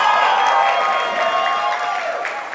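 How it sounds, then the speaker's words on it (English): Audience applause and cheering at a 2017 Hollywood Foreign Press Association grants banquet, a dense, steady wash of clapping from a large room that fades slightly toward the end. "Thank you for the applause in the back."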